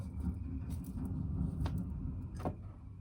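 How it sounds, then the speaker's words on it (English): A garbage truck pulls up outside, its low engine rumble continuous throughout, with a few brief squeaks and knocks rising above it, heard from indoors at moderate distance. "Do you notice how the garbage truck just came in as I was talking about people who have tried to like interfere, right?"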